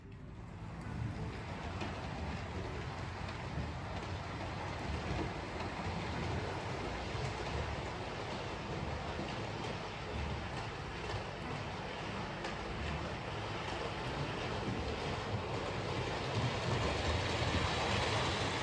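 A long-wheelbase Duchess model locomotive runs steadily along newly wired layout track, giving a continuous low rumbling roll with faint rail clatter, close and even in level throughout.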